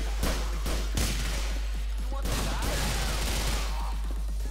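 Gunfire in GTA 4 during a zombie apocalypse mode, heard as loud, repeated bursts of shots over constant game noise.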